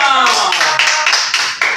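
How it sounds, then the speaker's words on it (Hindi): Clapping on a studio talk show comes as a short run of about six distinct, fairly evenly spaced claps, close and loud, with a voice audible at the start. "बिलाल भी ताली बजा रहे हो"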